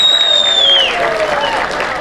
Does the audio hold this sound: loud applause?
yes